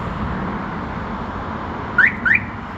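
A smartphone-controlled alarm on a Hyundai Mega Truck carrier gives two quick chirps in succession as the doors lock, over a steady low background rumble.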